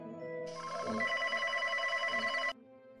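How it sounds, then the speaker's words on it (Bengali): A telephone rings on unanswered late at night, a steady electronic ring tone sounding for about two seconds, clear and alone with no talk. "ফোন তো বেজে যাচ্ছে, ফোনটা ধরছে না কেন?"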